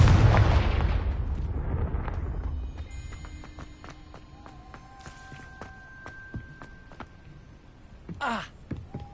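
A Confringo blasting spell explodes in Hogwarts Legacy, a loud booming burst that decays into a long rumbling tail, followed by scattered small clicks, tones and a brief whoosh near the end.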